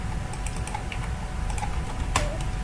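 Quick, steady clatter of keys as an SQL insert query is typed on a computer keyboard, close and continuous with a faint background hum, no talking.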